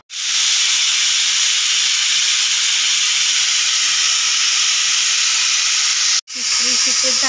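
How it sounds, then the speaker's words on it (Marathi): A pressure cooker on a gas stove, cooking masala khichdi, vents steam in a loud, steady hiss that runs for several seconds, cuts off abruptly, then starts again. "तिसरी शिट्टी झाली आहे बघा।"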